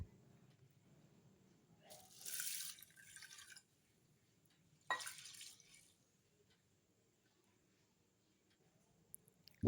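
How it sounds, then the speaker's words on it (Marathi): Lentils are rinsed with water in a pressure cooker pot in a home kitchen, with two short bursts of splashing and pouring separated by near silence and faint dripping. "सर्वात अगोदर कुकरमध्ये डाळ टाकून घेऊन स्वच्छ धुवून घेतली"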